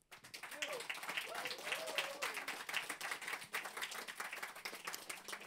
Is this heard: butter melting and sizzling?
no